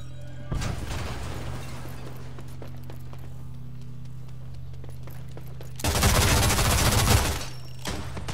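Bursts of automatic gunfire from a weapon in the video game Rogue Company: a long rattling stream near the start, then a louder, denser burst near the end over a steady game hum.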